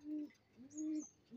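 Domestic pigeons of the Bezi breed kept at home give two long, mellow, throaty coos, close by and clear, with a short gap between them and no talking.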